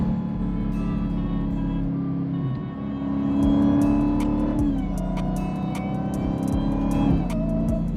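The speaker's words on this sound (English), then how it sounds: "I could just listen to that supercharger." A supercharged 2020 Dodge Charger Hellcat Widebody engine drones and revs through gear changes, with a steady supercharger whine over the roar as it accelerates in pouring rain, heard from inside the vehicle.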